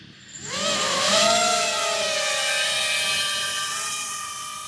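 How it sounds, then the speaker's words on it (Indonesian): A drone's whining rotors spin up and hover close by, a high buzzing pitch rising then holding steady for several seconds, with no speech. "Ini bapaknya lagi nerbangin drone"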